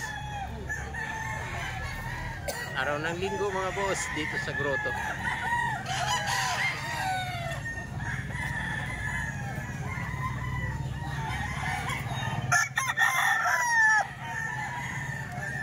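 A gamecock rooster crows repeatedly at a gathering on a Sunday, the crows clear and moderately close against constant background chatter and crowd noise, while someone talks throughout.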